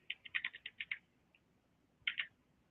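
Numbers are typed on a computer keyboard: a close, quick run of about eight light keystrokes, a pause of about a second, then a short burst of two or three more taps in a quiet room.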